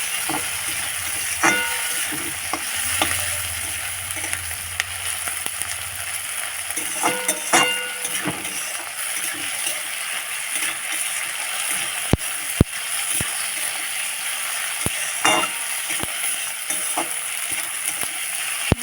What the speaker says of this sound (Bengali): ভালো করে টমেটো পেঁয়াজ আর কাঁচা লঙ্কাটাকে ভালো করে তেলের উপরে কষিয়ে নেবো